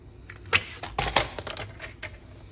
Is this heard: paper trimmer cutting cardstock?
yes